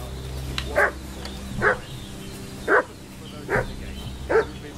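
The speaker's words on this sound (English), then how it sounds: "What's that dog making such a fuss about?" A dog in the medieval game Kingdom Come: Deliverance II barks five times at a steady spacing, moderately close, over a low ambient music bed.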